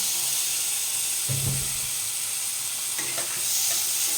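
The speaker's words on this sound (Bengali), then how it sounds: "ফোড়ন থেকে একটা সুন্দর গন্ধ আসার পর দিয়ে দিচ্ছি টমেটো কুচি।" Chopped tomatoes hit hot oil tempering with green chillies, giving a loud, steady sizzle and hiss with a couple of stirring scrapes.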